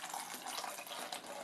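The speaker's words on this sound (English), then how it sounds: "the vinegar will be poured into the bottles" Vinegar pours through a funnel into a bottle in a steady, faint trickling stream that lasts only a moment, with no talking.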